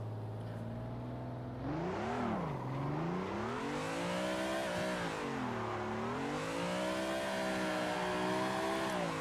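A drift car in the Assetto Corsa racing game revs up and swings into a donut, the engine note rising and falling in repeated waves as the throttle is worked, steady and fairly quiet with no talk.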